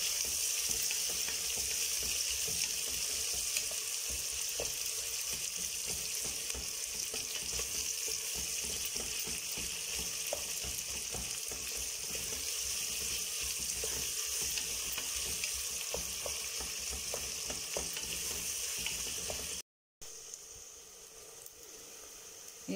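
Onions frying steadily in hot oil for a vegetable biryani, a continuous close sizzle with occasional stirring scrapes, briefly cutting out near the end before resuming slightly quieter.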